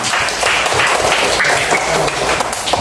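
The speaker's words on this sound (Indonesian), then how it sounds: "Oke, beri tepuk tangan." A classroom group applauds together, a steady wash of many hands clapping throughout without a break, dense and fairly loud.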